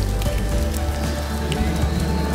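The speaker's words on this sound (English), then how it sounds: "now it's raining" Rain patters steadily on surfaces at Disneyland, a dense close hiss over a low outdoor rumble, with faint crowd sounds mixed in.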